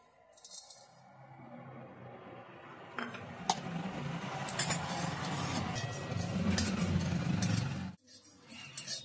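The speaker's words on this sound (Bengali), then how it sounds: "এই গোটা মশলাগুলো আমি একটু ভেজে নিচ্ছি।" Whole pepper, coriander and cumin seeds dry-roasting in a pan rattle and clink as they are stirred, close and busy for several seconds before stopping abruptly.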